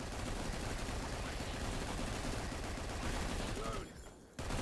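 Dense, continuous gunfire aimed at a turret in the sci-fi shooter ANVIL: Vault Breakers, a sustained roaring barrage with a brief dip near the end before it resumes.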